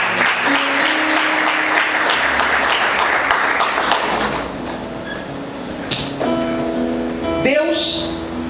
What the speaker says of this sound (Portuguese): Vamos aplaudir o Senhor com alegria.